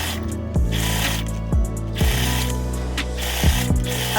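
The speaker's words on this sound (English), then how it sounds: "right here y'all watching me sew the tracks down onto the mid-stone cap" A sewing machine stitching hair tracks onto a wig cap runs with a steady mechanical whir and low hum, marked by several distinct clunks at irregular intervals, close and alone with no voices.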